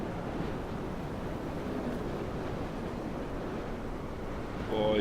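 Ocean waves washing onto the shore in the video game Dear Esther: a steady, full-bodied roar of surf and wind that rolls on continuously, swelling slightly louder at the end.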